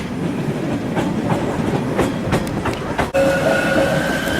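Steady rumble and rattle of a train with clattering wheels at Basel station, Switzerland, a sudden sharp break, then a louder hiss and tonal whine of rail noise.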